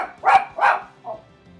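A pet dog gives two loud, close barks in quick succession, then a softer third bark after a short pause, in an otherwise quiet indoor room.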